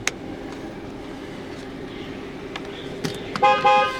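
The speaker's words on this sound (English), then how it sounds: "Honk does work, as you guys can see." The horn of a 2016 Dodge Charger 5.7 RWD, a former highway patrol car, toots a few times near the end, sharp and loud over a low steady engine idle.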